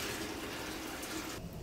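Water pours steadily into a pot of simmering pozole stock, a continuous close splashing rush that stops abruptly near the end.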